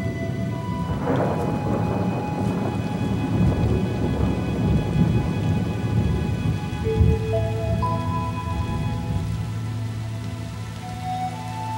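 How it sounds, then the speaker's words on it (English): A thunderstorm with steady, heavy rain pattering on surfaces and deep rolls of thunder rumbling through, loud and continuous with no voices. "A storm is on the way."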